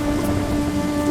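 Steady rain pours down in a cartoon village scene, a dense continuous hiss of drops drumming on surfaces with a faint low rumble beneath, no voices.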